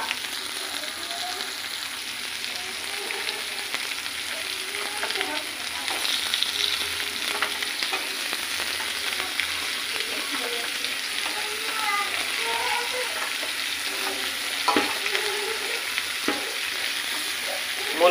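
Cauliflower stems, florets and potato pieces fry in oil in a pan with steady, moderate sizzling, broken by occasional scrapes and clinks as a spoon stirs them, with no talking.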